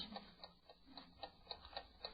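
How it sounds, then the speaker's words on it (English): A clock ticks steadily in a quiet house, with evenly spaced, crisp ticks about every quarter second over a faint, hushed background. "I haven't heard a clock tick in this house for years."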